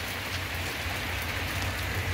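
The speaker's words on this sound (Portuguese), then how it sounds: "Olha aí, ó. Muita chuva." Heavy rain pours in Joaquim Gomes, Alagoas, a dense, even hiss of drops hitting surfaces with a low rumble underneath, continuous and loud with no voices.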